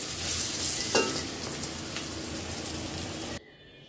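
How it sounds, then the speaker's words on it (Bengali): Pointed gourd fries over medium heat, giving a loud, continuous crackling sizzle up close with an occasional stir, before cutting off abruptly to near quiet. "সময় নিয়ে মিডিয়াম আঁচে এরকম কড়কড়া করে পটল ভাজতে হয়"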